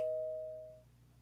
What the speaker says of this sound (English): that's me ringing the doorbell